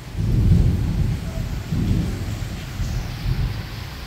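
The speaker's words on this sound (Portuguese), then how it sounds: "E tome trovão no meu Cariri." Thunder rolls through a rainstorm in Crato, Ceará, in the Cariri region. A deep, heavy rumble swells and fades over steady rain, loud and close, with no voices.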